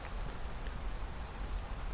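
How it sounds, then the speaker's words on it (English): Heavy summer rain in England pours down in a dense, continuous hiss, steady and close with no pauses. "it's pouring with rain"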